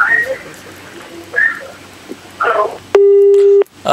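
A telephone busy tone sounds on a radio call-in show after a caller's line drops: one steady, loud beep lasting under a second, preceded by faint, scattered broadcast chatter.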